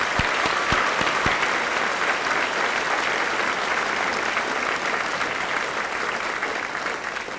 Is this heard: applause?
yes